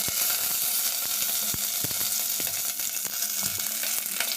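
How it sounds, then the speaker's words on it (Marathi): Curry leaves crackle and sizzle in hot oil over a lowered flame for a Mandeli fish curry, a dense steady frying hiss with sharp pops scattered throughout, close and fairly loud, no voices. "आता फ्लेम जरा लो करूया आणि त्याच्यामध्ये आपण आता टाकूया कढीपत्ता."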